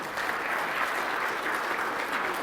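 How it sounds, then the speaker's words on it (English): A seated audience applauds at a leadership talk, giving a participant named Pam another round of clapping: an even, sustained wash of many hands at moderate distance, with no speech on top. "Let's give Pam another round of applause here."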